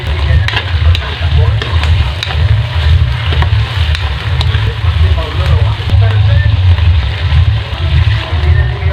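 A pot of sardines and papaya cooks on the stove, giving a steady loud bubbling and sizzling simmer that carries on without a break, the water at a full boil.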